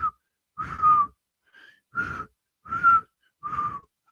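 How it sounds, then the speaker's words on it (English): A person whistles off-key on purpose, five short wavering whistled notes with silent gaps, plus a brief faint one, sounding close and clear with no talk. "I'm deliberately messing up the whistle there to make because it sounds so bad on the recorder."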